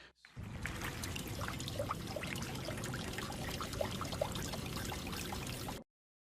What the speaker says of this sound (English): Let's add a little bit more of water dripping.